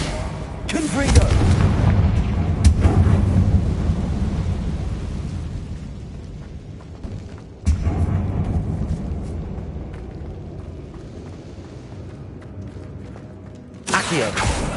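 Confringo blasting spell explosions in Hogwarts Legacy: a loud booming blast with a long rumbling decay, a second sharp blast midway, and another burst right at the end.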